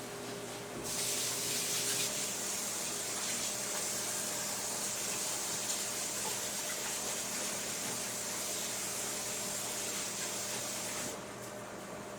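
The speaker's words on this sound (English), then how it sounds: "Let me wash my hands." A tap runs steadily for hand washing in a home kitchen while making turkey pot pie, a loud continuous rush of water starting about a second in and cutting off near the end over a faint background hum.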